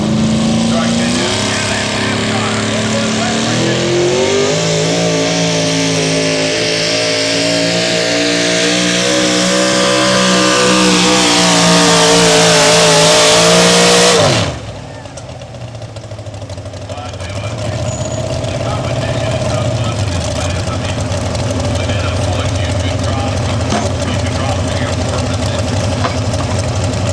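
A tractor-pull truck's engine roars at full throttle, rising steadily in pitch for about fourteen seconds before cutting off abruptly, with a lower rumble and an announcer's voice continuing afterward.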